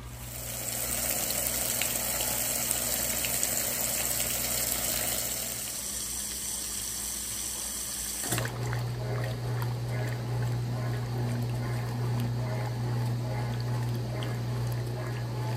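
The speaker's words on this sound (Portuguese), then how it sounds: "Então já vamos abortar a centrifugação e colocar a primeira enxágue." An Electrolux Top8 (LE08) top-load washing machine, washing four blankets, hums and churns steadily as it fills with water for the first rinse, with a deeper motor drone starting midway, continuous and close.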